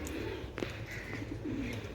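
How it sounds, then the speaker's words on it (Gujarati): Pigeons coo in soft, repeated low calls, with a brief flutter or clatter partway through and faint background noise, in Surat. "અમારે અહીંયા બહુ બધા કબૂતર આવે"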